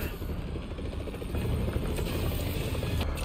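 A helicopter in the Spider-Man Remastered video game roars with a steady, dense rotor thrum and engine rumble, close and loud throughout, with no speech.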